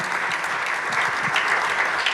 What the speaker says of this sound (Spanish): Damos aplausos al Señor,